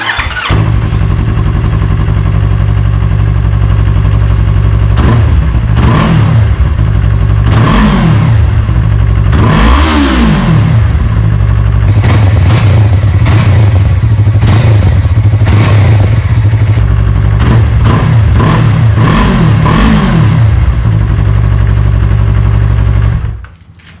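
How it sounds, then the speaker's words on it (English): A Yamaha R3 motorcycle with an aftermarket exhaust starts and revs repeatedly, loud and close, with deep exhaust rumble rising and falling in sharp bursts before cutting off at the end. "We're gonna give you a startup video so you can hear what it sounds like."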